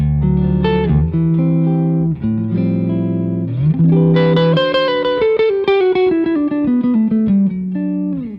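Clean electric guitar tone through an Epoch Bias boost pedal, warm and full: a loud, sustained run of chords and single notes with a descending melodic line, ringing alone with no talk.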